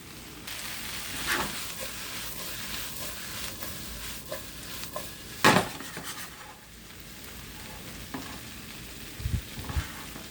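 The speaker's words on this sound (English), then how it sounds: "I'm going to let it brown up on the bottom and flip it again." A vegan frankfurter hash fries in a pan with a steady low sizzle, joined by occasional scrapes and light clinks as it is stirred and turned.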